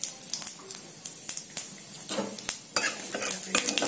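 Whole cumin seeds and a bay leaf tempering in hot oil in a kadai, a steady close sizzle with stirring scrapes and utensil clinks throughout, no talking.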